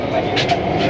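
Brief rumble of a Kolkata metro train pulling away in the tunnel beneath the Ganges, a steady low drone with a couple of short hissing bursts, heard from inside the carriage.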